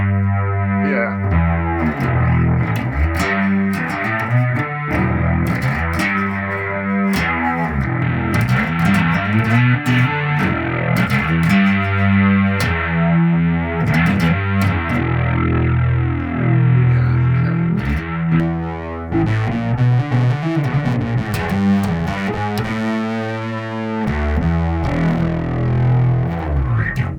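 A bass guitar runs through an Ashdown Geezer Butler Pedal of Doom distortion pedal with its second EQ engaged, giving a thick, loud, sustained fuzzy riff that plays steadily throughout without any talking.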